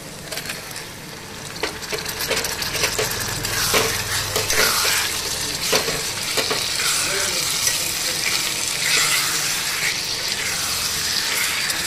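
Steady, busy sizzling of liver frying in a hot pan, with occasional scraping and stirring sounds, close and continuous without any talking.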